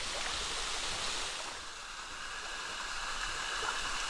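Water from a waterfall pouring down at a garden, used as an outdoor shower, makes a steady, bright hiss and splash that holds near and constant, dipping briefly midway.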